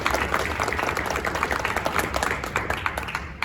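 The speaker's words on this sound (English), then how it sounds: "Let's give these guys a round of applause" Parents and guests at a high school boys varsity awards banquet give a round of applause, dense close clapping from an indoor crowd that stays loud and fairly even throughout.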